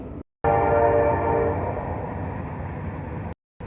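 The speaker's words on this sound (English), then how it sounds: "I'll wait till the train is over before I resume." A passing train rumbles loudly with a long sustained horn blast near the start, steady and close, then cuts off abruptly.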